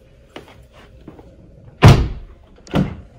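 The door of a Rolls-Royce Ghost closes automatically at the push of a button, landing with a solid, deep thud up close, followed by a second softer thunk about a second later.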